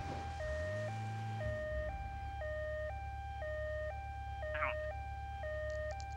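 Ambulance siren in a Grand Theft Auto driving scene, a steady two-tone wail alternating high and low about every half second throughout, mixed with engine rumble and game sounds.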